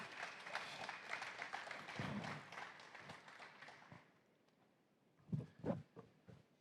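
A press-conference audience at a karate fight event gives a short round of applause, a few seconds of moderate scattered clapping that fades out, followed by some sparse isolated claps and knocks.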